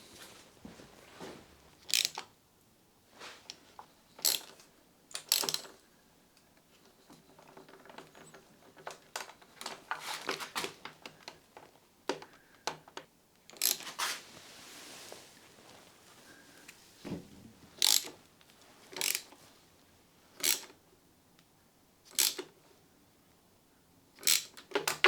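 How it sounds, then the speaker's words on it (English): Allen key clicking and turning as bolts holding the airbox are tightened underneath a Yamaha FZ6 motorcycle, heard as sharp, separate metallic ticks and scrapes at an uneven pace, close and fairly quiet, with no talking. "I need to get these Allen key bits done up under here first that hold the airbox on at the bottom"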